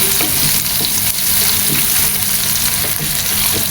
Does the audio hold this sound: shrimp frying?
yes